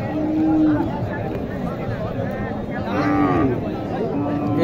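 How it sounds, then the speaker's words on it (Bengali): Pregnant cows at a cattle market in Naogaon give several drawn-out moos close by, over a murmur of crowd chatter while people talk nearby. "এই যে গরুগুলো, এগুলো সব গাভিন গরু তাই না?"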